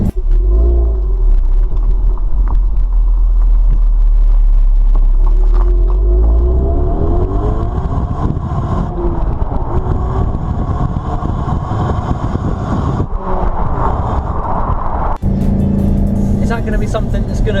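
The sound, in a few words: Ford Mustang EcoBoost engine sound while driving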